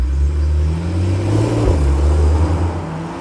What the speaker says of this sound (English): You're very well aware of those sports exhausts, but it's not a coarse, unruly noise.